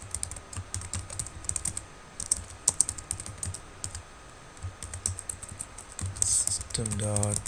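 Rapid, steady clatter of Java code being typed on a computer keyboard, close and moderately loud, with bursts of keystrokes and brief pauses, and a voice speaking over part of it.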